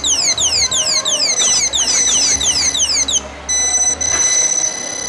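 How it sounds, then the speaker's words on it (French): An anti-theft alarm on an unplugged display phone in a supermarket sounds loudly and alone: a fast run of repeated descending electronic chirps, then a sustained shrill tone. "Tous ces téléphones-là sont mis sous alarme. Une fois qu'on le débranche, automatiquement il sonne."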